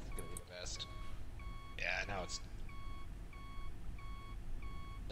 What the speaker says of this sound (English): It's beeping at us.